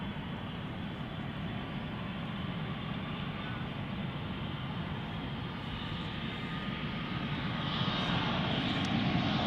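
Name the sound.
aircraft arriving at Schiphol Airport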